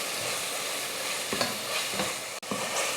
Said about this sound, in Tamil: இதெல்லாம் நல்லா வதக்கி விட்டுலாம்.